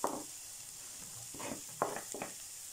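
Onion and pepper fry in a pan, a soft even sizzle under a few short stirring scrapes and clatters, close and quiet.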